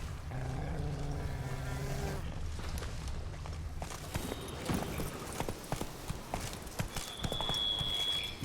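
Roach, the horse in Witcher 3, gallops with a run of quick, fairly close hoofbeats over a rumbling game background, and a voice briefly speaks near the start.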